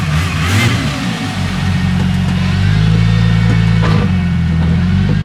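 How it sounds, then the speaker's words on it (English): A purpose-built drag car's engine runs loud and close, holding a heavy, rumbling note that swells slightly partway through before cutting off at the end. "This is a purpose-built drag car, and it's kind of spicy."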